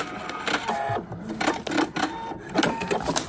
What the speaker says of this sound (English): just aware of how to move fabric in your sewing machine as it's moving, and letting the feed dogs pull it